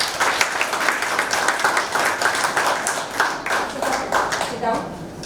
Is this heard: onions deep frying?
no